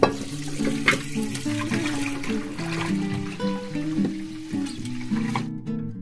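Pieces of fish washed one by one in water in a bowl, a steady wet swishing and splashing with trickling water throughout, close and continuous with no talking, under a layer of background music.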